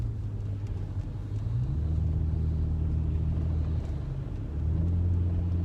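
A car rumbles along an icy road in Jackson, Mississippi, a low steady engine drone with a shift in pitch as it passes, heard from inside a vehicle with no talk.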